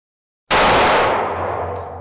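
A SCCY 9mm handgun fires a single sharp, loud shot at a target 25 feet away after a brief silence, followed by a ringing decay with faint metallic clinks.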